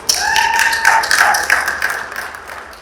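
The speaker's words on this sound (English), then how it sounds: "Everybody please give a huge round of applause." Audience at a crypto expo in Dubai clapping, a short burst of close, dense handclaps lasting a few seconds with faint background tones behind it.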